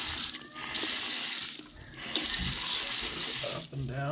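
Water runs steadily from a Moen kitchen faucet with a loose handle, a continuous close hiss that dips briefly a few times as the flow shifts, with no talk over it.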